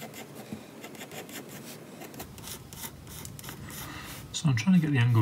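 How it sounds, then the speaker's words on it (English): A tool scrapes ink off the copper surface of a printed circuit board in close, uneven rubbing strokes, with a voice speaking briefly near the end. "I'm scraping the ink away without scratching too much into the copper"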